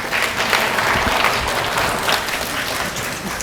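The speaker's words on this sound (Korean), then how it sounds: "힘찬 박수로 무대로 모셔보겠습니다" An indoor audience at a high school admissions strategy seminar claps steadily to welcome a presenter to the stage, dense sustained applause throughout with no talk.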